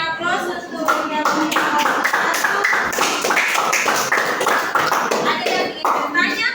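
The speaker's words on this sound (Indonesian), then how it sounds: "Kita berikan aplaus untuk yang" Applause from a classroom of students, a run of steady, fairly loud clapping by many hands lasting several seconds, with voices mixed in underneath.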